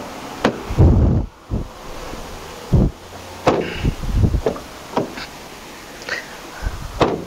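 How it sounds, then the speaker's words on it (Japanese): A Honda Odyssey RB1 car door is swung open and shut several times after repair work, giving repeated solid thumps and clunks with short pauses between them, close to the microphone. "最終的にもう一回ドアの開け閉めをしてあげて、問題がないか"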